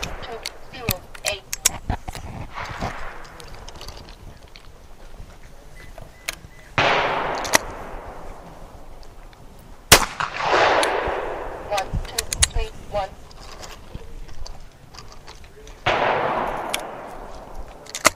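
A shotgun fired a few feet behind a chronograph outdoors: several loud, close blasts, each with a long ringing decay, spaced several seconds apart, amid clicks and handling noise with a voice talking between shots.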